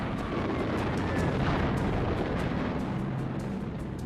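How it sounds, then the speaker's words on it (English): Bombs dropped by low-flying US bombers on Tokyo near the Emperor's Palace: a dense, continuous roar of blasts and rumbling, loud and unbroken throughout. "US bombers flying low over Tokyo dropped bombs on the city close to the Emperor's Palace."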